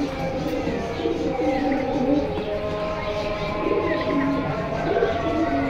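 A pigeon coos in low, throaty, repeating pulses while laying an egg, a steady soft rhythm close by with faint background noise and some muffled voices.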